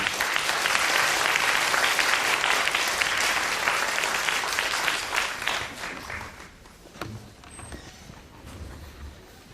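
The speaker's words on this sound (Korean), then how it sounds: "큰 박수로 환영해주세요." An audience at a lecture hall event claps loudly to welcome a speaker, a thick wash of applause that holds for several seconds, then thins out and fades to scattered claps.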